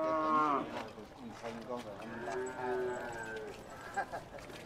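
Water buffalo at a large upland livestock market, lowing with repeated loud moos close by, harmonic calls over crowd noise and murmured voices.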